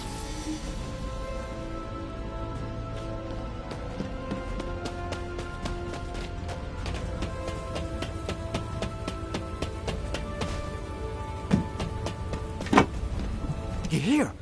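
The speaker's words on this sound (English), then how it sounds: "This rain is really coming down. I hope it stops soon." Heavy rain falls steadily in the video game The First Descendant, a dense continuous hiss with scattered drips and ticks of drops hitting surfaces, growing a bit busier toward the end.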